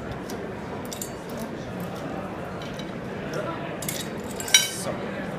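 Ice cubes drop into a Sensis Plus glass by Eisch, giving light clinks and one sharp chink amid soft background clatter while a voice talks over it.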